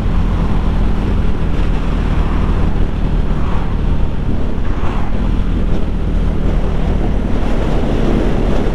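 Steady broadband wind buffeting the microphone over a wash of sea surf at the Dover ferry terminal, beneath the White Cliffs, loud and continuous with no speech.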